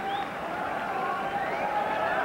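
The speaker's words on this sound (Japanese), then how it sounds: "今割れるような歓声のうちに豊登の登場でございます" A packed arena crowd roars and cheers steadily as professional wrestler Toyonobori enters the ring for a 1965 JWA bout against The Destroyer, a dense continuous din with no gaps.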